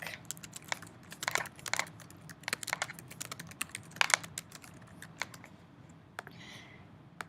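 Rapid, irregular keystrokes tap on a computer keyboard while a rate is entered into FreshBooks accounting software, quiet and close with brief pauses between bursts.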